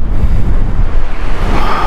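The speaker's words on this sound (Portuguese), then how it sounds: "Tá ventando demais." Strong coastal wind at the westernmost point of South America, buffeting a helmet-mounted microphone with a loud, rumbling low roar that gusts and surges without a break and carries no speech.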